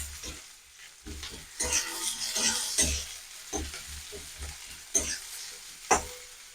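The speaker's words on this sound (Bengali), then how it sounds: "আমি 1 মিনিট মতো পেঁয়াজটা ভেজে নেবো।" Chopped onion frying in a pan, a soft sizzle broken by repeated close scrapes and stirring strokes of a spatula, fairly quiet with no voices.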